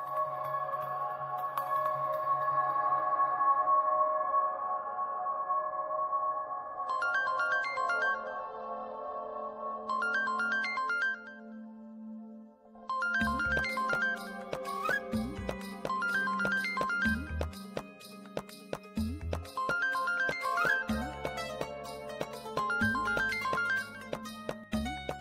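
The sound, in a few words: phone ringing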